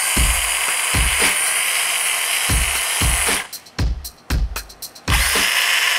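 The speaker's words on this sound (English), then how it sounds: "We're gonna drill 2 holes, one's for air, one's for the straw." A power drill bores holes into a coconut, whining steadily with rhythmic thumps, briefly stuttering with rapid bursts and clicks, then resuming its continuous grinding drone close by.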